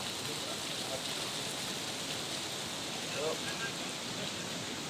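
Heavy rain falls steadily during a motorcycle trip to Olympus, a dense, even hiss of downpour filling the scene continuously, fairly loud and close, with no clear voices.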